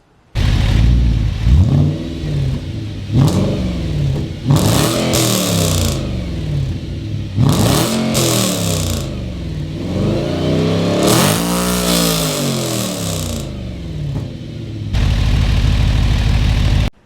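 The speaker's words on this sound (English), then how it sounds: "But you cannot ignore the engine in that Mercedes." A Mercedes car engine revs repeatedly, rising and falling in pitch through several loud accelerations, with a steady idle rumble between them and no talking.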